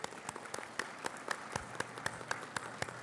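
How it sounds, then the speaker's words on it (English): Audience applause at a college commencement ceremony, steady crowd clapping with sharper individual claps standing out, moderately distant and continuing for the whole stretch with no talk. "So let's give him a round of applause."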